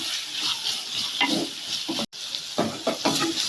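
Onions and tomatoes sizzling in a pan while a spoon stirs through them, a steady close frying hiss broken by scraping strokes, with one brief dropout midway.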